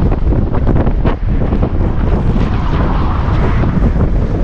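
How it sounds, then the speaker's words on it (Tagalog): Strong wind buffets the microphone out at sea during a solo fishing trip, a loud, continuous roaring rumble with gusty surges and no voices. "Grabe, lakas ng hangin."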